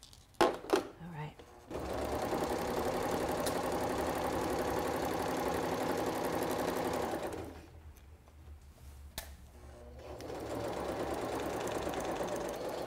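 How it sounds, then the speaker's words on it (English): A sewing machine stitches a placemat seam with back stitching at each end, running steadily in two long stretches with a short pause between them. "I'm going to back stitch the beginning and the end of the seam and remove the pins as I go"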